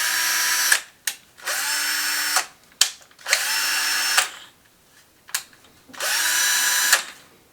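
A Makita DF330D 10.8V cordless drill runs in four bursts of about a second each with short pauses between. The whine is loud and close, and it winds up and down at each start and stop. No voices are heard.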